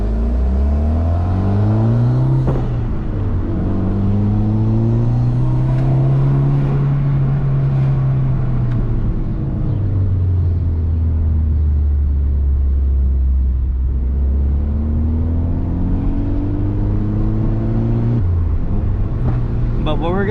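Mitsubishi Lancer Evo X fitted with a new exhaust, revving repeatedly with turbo whoosh rising and falling, loud and close, with people talking over it.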